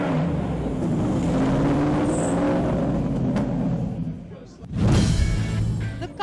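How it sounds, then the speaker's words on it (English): An Aston Martin Vantage GTE race car engine roars past, fading down, then a second loud, rising engine burst surges in close toward the end. "The car, an Aston Martin Vantage GTE."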